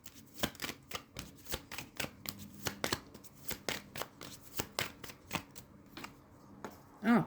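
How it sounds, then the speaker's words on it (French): Oracle cards being shuffled by hand: a steady run of crisp riffling slaps and flutters, close and fairly quiet, repeating about every third of a second with no voices. "on va mélanger les cartes"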